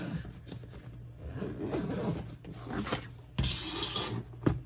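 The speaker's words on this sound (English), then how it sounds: "So I'm going to zip this up and move it out of the way." A zipper is drawn closed around a case in several short rasping pulls, close and fairly quiet, ending with a brighter, faster zip.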